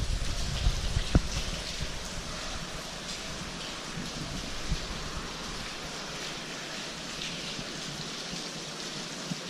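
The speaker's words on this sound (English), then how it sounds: "It's literally just dripping everywhere in here." Heavy rain drips and patters throughout a roofless, flooded abandoned bakery factory, a steady hiss of water with a few sharper drops near the start.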